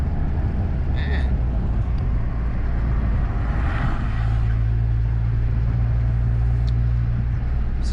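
A 2007 Acura TSX with stiff suspension drives along, a steady low road and engine rumble from inside the cabin with occasional light knocks.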